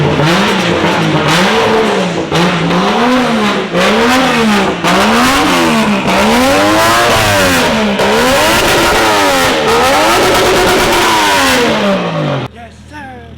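A Toyota JZX110 Mark II engine running in a garage and being revved repeatedly in rising and falling sweeps, loud and close, before cutting off abruptly near the end.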